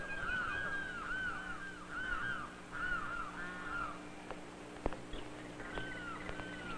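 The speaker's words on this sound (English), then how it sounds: "I like seeing the birds" Birds call in a forest, with repeated harsh, crow-like cawing phrases rising and falling over a quiet hum, followed by a sharp knock and a few more distant calls.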